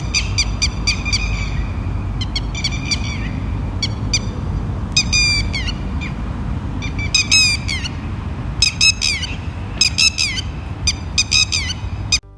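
Wild bird calling at Galibore Nature Camp, a wilderness setting: repeated bursts of sharp, squawking calls in clusters, fairly near and loud, over a steady low outdoor rumble.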